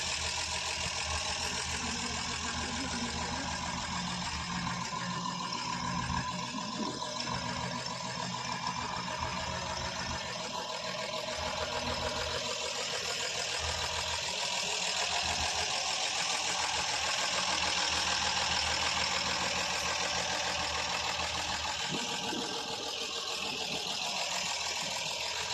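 A 1964 Rambler American 330 with a 196 overhead-valve six-cylinder engine idles outdoors, its exhaust giving a steady low rumble with a faint uneven pulse that holds throughout at moderate level.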